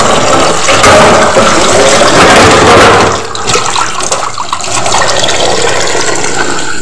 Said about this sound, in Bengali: এগুলো আগে ধুয়ে নিই, তারপরে এদিকে গুলো, কারণ এতটা বেসিনটাই জায়গা হবে না রাখার জন্য।